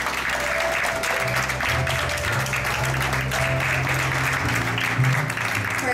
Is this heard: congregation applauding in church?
yes